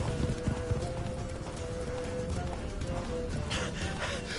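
Hooves of a running horse in The Witcher 3: Blood and Wine, a fast, steady clatter of galloping beats under game ambience.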